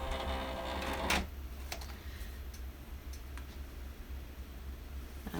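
A vinyl cutting machine loads a cutting mat: a mechanical whirring motor with a brief clatter early on, then a steady hum with faint ticking.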